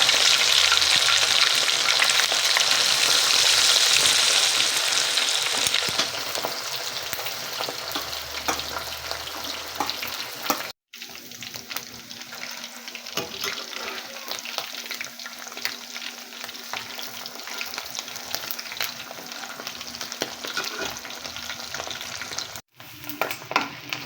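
Fish omelette (tortang isda) sizzles loudly in hot oil in a pan, the frying noise fading somewhat partway through and then holding steady and close, with no talking.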